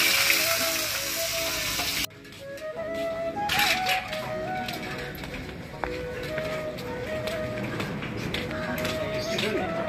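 Food frying in a pan during home cooking, a continuous crackling sizzle with occasional taps and stirring clatter, close by, with background voices and household noise.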